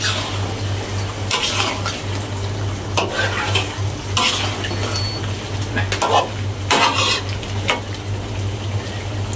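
Fried chicken stirred into coconut milk in a pot for ayam masak lemak ketumbar, with steady scraping stirs and a constant low sizzle and hum underneath throughout, no voices.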